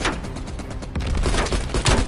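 Gunfire in the video game Call of Duty Black Ops Cold War, with rapid, loud bursts of shots and thuds packed across two seconds and no voices over them.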